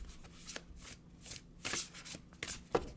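Oracle cards shuffled by hand in a quiet room, a run of soft riffling bursts and flutters, close and moderately loud, with no talking.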